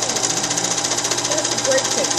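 A serger stitches elastic onto a slip, running as a fast, steady mechanical whir with a rapid even rhythm, loud and close throughout.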